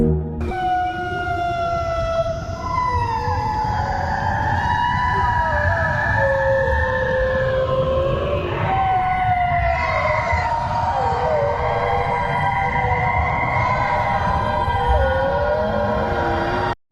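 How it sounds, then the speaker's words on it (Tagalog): Eerie, wavering tonal calls glide up and down over a constant noisy rumble in an underwater sonar recording of an unexplained sound, like a distant siren or whale-like howls, sustained throughout. "Ilang siyentipiko ang nakapagtala ng mga boses umano ng sirena gamit ang sonar."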